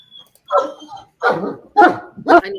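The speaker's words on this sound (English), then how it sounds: "You don't need to go barking at him." A border collie barks four times in quick succession, loud and close, each bark sharp with a short gap between.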